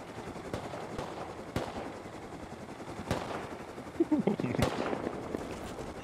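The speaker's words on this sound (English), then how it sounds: "He's just shooting me." Gunfire in the Rust video game: sharp shots crack out at irregular intervals, with a short burst near the end, over a noisy game background at moderate loudness.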